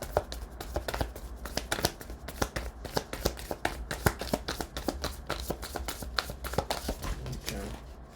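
Tarot cards shuffled from a deck, a quiet run of rapid papery riffles and flicks repeating steadily at close range for several seconds, with faint speech in the background.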